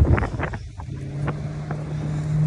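Roadside traffic passes by loudly, a rushing vehicle sweep under gusty wind on the microphone, followed by a steady hum as more traffic approaches.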